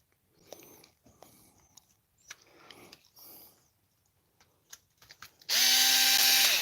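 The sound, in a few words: wrench working on RC truck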